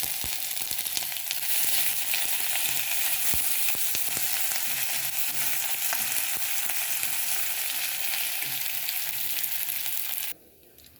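Grated ginger fries in a pan with a loud, continuous sizzle and occasional stirring clicks, then cuts off abruptly near the end; no one speaks.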